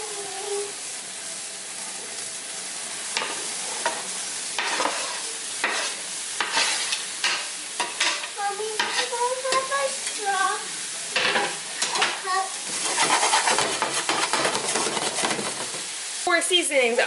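Chopped taco filling cooks in a pan with garlic-and-herb and taco seasoning, giving a steady close sizzle broken by repeated scraping stirs, with faint voices now and then in the background.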